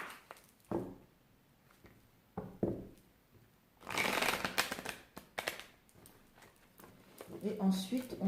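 Tarot-style cards are shuffled and cut by hand for a reading, giving a few soft riffling bursts and papery slaps between quieter pauses, close by, with someone speaking French in places.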